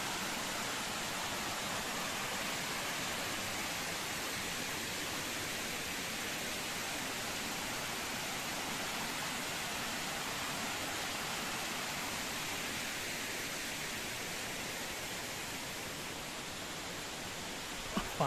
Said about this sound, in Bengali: ফাঁক দিয়ে যে জলগুলো বেরোচ্ছে সেটাই বেরোচ্ছে